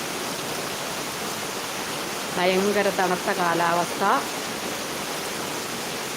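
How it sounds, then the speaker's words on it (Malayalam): Heavy rain at night falls as a steady, loud hiss throughout, with someone speaking briefly over it in the middle. "ഇവിടെ ഇന്നലെ രാത്രി മുതൽ ഭയങ്കര മഴയാട്ടോ ഇവിടെ നല്ല സൂപ്പർ മഴ"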